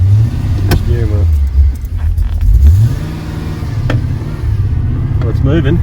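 A car with a newly installed Uniclutch Sport clutch in an LS setup pulls away with a close, loud engine rumble that rises and shifts in pitch, with speech heard over it.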